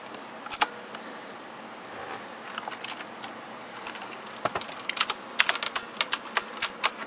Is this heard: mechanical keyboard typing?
yes